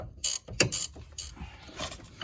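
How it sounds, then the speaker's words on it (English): Close mechanical clicks and ratcheting as brake bolts are tightened during a Brembo brake install on a Dodge Charger RT, a few sharp bursts with quieter gaps. "so that's 3 bolts already tightened up"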